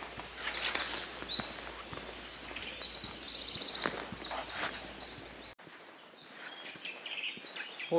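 Birds singing in woods, bright chirps and trills scattered throughout over a steady rustling background, fairly close and lively.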